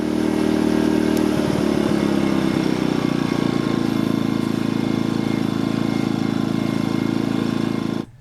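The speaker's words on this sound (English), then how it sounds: "There is an eco mode that you can flip a switch and run that will save you a little bit of gas by lowering the RPM" A Wen 56200i 2000W inverter generator runs steadily in eco mode at lowered RPM, a close, continuous engine drone with light mechanical clatter and no talking.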